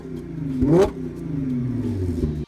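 An Audi S4 B8.5 engine revving as the throttle is pressed, a quick surging rise in pitch then settling into a steady mid-pitched drone, close and fairly loud.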